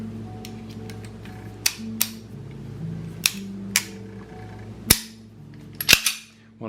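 Hi-Power pistol being reassembled with its trigger sub-assembly, giving sharp, close metallic clicks and snaps scattered at irregular intervals over a low steady hum, with no talking.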